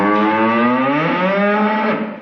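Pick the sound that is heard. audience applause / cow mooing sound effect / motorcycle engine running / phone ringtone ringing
cow mooing sound effect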